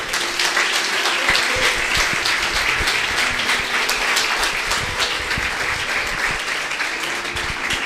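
A church congregation applauds together, dense and loud clapping holding steady for several seconds without any speech on top.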